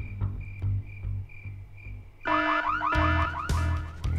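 A synthetic video game car alarm at a gas tower cycles through warbling, rising and falling tones, starting after a short quiet stretch with low rumble and continuing loudly to the end.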